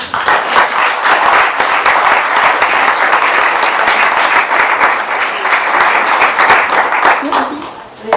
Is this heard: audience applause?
yes